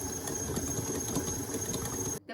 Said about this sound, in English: Start mixing and whisking the butter until it's soft.